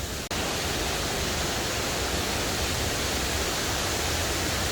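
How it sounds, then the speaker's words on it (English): A large five-tier waterfall in Thailand roars as a steady, loud, dense wash of falling water, continuous and close, with no voices over it. "I can see the grand waterfall."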